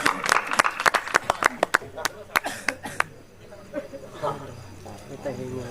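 Audience at a Chhattisgarhi kavi sammelan claps to welcome poet Dr. Nirupama Sharma; a burst of sharp, fairly loud claps for about three seconds that then fades, with a voice talking over it.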